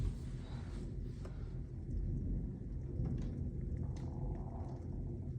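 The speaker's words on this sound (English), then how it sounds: "Oh, it's too close, the lightning is." Thunder rolling through a severe thunderstorm with lightning, high winds and hail in Lubbock, a long low rumble that swells and fades, with rain in the background and no talk.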